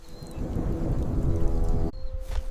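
A thunderstorm rolls with a low, heavy rumble of thunder over steady rain, loud and sustained before cutting off abruptly.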